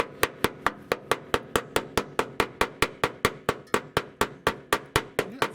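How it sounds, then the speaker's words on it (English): A pointed hammer chips rust flakes off the underbody of an Iveco Daily van, giving a steady series of about twenty sharp, evenly spaced metallic taps, close and clear with no talking. "It's best if you use like a pointy end of a hammer."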